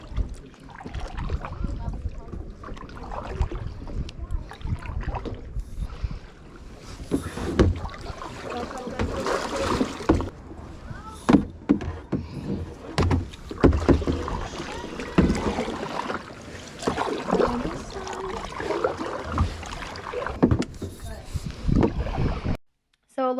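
Kayak paddles dipping and splashing through water on a paddle through a national park, with irregular close sloshes and drips, intermittent wind buffeting and occasional nearby voices.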